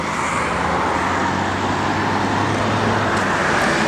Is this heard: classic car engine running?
yes